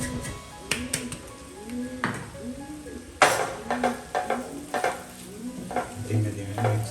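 Soaked poha is stirred gently in a pan, with soft sizzling and a spoon scraping and clinking against the metal in irregular strokes, close by, while a person talks quietly in the background.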